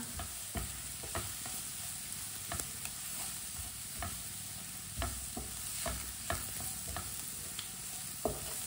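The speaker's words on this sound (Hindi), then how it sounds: "अच्छी तरह मिक्स कर लेंगे। सब्जियों को ज्यादा बिल्कुल भी नहीं पकाना।" Vegetables with turmeric fry in a pan for kababs while being stirred, a soft, steady sizzle with regular spoon scrapes and taps throughout, fairly faint and with no voices.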